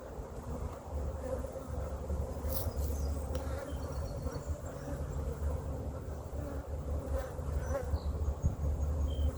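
Bees buzzing densely around a hive being inspected after splits, a steady close droning swarm with light wind noise on the microphone and no talking.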